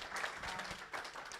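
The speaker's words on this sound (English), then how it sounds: "Give her a round of applause," Faint, thin applause from a small group at a virtual audio programming meetup, distant and scattered clapping that swells briefly and fades.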